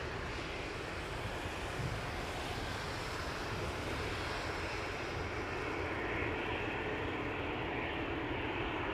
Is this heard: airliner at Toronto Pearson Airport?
yes